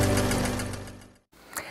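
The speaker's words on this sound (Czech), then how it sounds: "Dáme se do toho finálního prošívání" A sewing machine runs in a steady rapid stitching burst as it sews the binding along a quilt edge, close and fairly quiet, then stops abruptly, followed by a short soft clatter.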